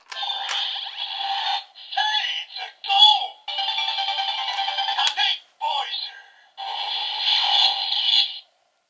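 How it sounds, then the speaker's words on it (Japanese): Electronic sounds and voice effects from a DX Seiza Blaster toy with a Kyutama inserted, a series of bright synthetic bursts and tones in several separate segments with short gaps between them, close and fairly loud. "縦ボイジャーでボアワーンっていう電子音、"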